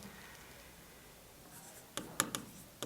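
Pen writing a maths formula on paper, a faint scratchy stroke or two over quiet room noise, ending in a few short, sharper scratches.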